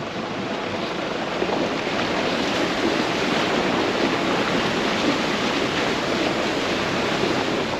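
A vehicle splashes through a shallow, steep-banked creek crossing on a four-wheel-drive track in Litchfield, giving a loud, steady broadband rush of churning water and engine noise throughout, with no talk.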